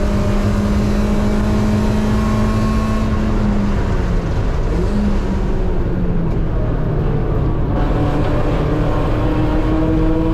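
Race car engine at GingerMan climbing through the revs as the driver gets on the throttle out of a corner, a loud, steady in-car drone with rising pitch and no talk over it.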